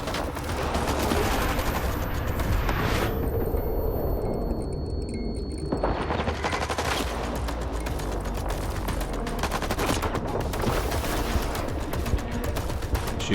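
Heavy gunfire fills a firefight in the shooter game S.T.A.L.K.E.R. 2: Heart of Chornobyl. Loud, dense bursts and rapid automatic fire go on almost without a break, with one short lull in the middle, and no voice is heard.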